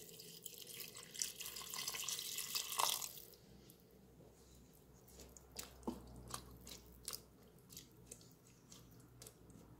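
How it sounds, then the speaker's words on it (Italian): Water is poured into minestrone with small datterini tomatoes in a Cookeo multicooker, a soft steady splashing stream for a few seconds that fades into quiet drips and small clicks. "Aggiungo un altro pochino di acqua."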